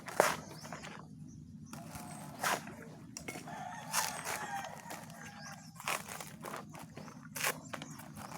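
Chickens and a rooster in a backyard coop cluck and squawk in scattered bursts, with a rooster's crow and rustling, shuffling steps as a bird is caught for butchering.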